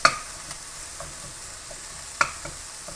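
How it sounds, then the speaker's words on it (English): Calamari stir-fries over high heat, a soft steady sizzle broken by two sharp metallic utensil knocks at the start and near the end, with quieter stirring scrapes between. "Just so it kind of gets a little stir fried nicely on high heat."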